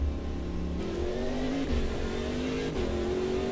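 A Ginetta P1 Gen 2 race car engine in Automobilista 2 revs and climbs through the gears, its pitch rising and dropping with each shift, steady and close with no talking.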